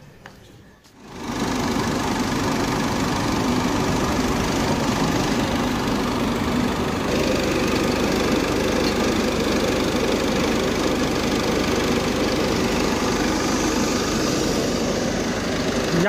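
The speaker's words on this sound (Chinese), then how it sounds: "是我试一下电机" An RV's generator motor starts up after a brief quiet moment and then runs steadily, a loud, even mechanical buzz with a fast rattling hum that holds unchanged to the end.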